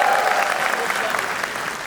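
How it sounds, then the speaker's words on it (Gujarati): Audience applause at a live comedy show, a steady wash of clapping from the crowd that stays loud and even for the whole short stretch, with a faint voice briefly under it at the start. "everybody બંને માટે તાળી થઈ જાય."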